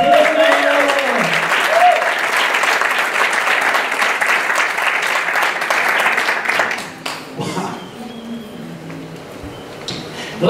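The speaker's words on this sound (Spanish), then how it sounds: "Queremos dar un aplauso al Señor." A church congregation breaks into loud, sustained applause, dense clapping close by with some voices mixed in, fading to a quieter, sparser patter after about seven seconds.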